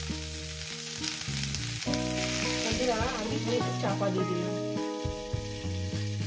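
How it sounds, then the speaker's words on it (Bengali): Cauliflower fries in a covered pan with a soft, steady sizzle, mostly beneath loud background music, while a person speaks briefly. "সুন্দর করে আমি লাল লাল করে ভেজে নেব"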